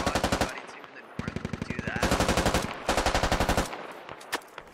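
Bursts of automatic gunfire in the Squad video game, several sustained volleys of rapid rounds with short gaps between them, loud and close, with brief pauses and scattered single shots.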